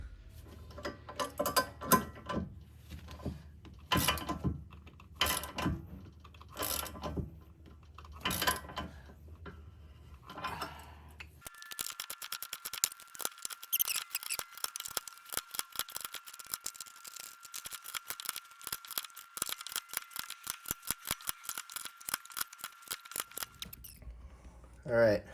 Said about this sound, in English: I've been using this kind of breaker bar to kind of just keep clocking this socket through this opening of the knuckle